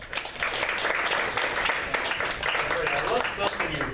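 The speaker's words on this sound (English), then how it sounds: "round of applause." An audience at a political talk breaks into steady applause, a dense wash of many hands clapping at moderate volume for a few seconds.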